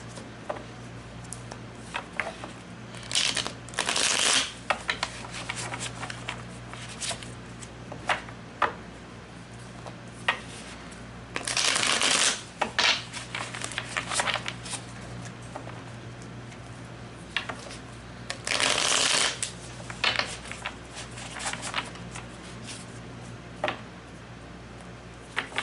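Tarot cards are shuffled in several soft, quick riffling bursts, separated by quiet pauses and light tapping.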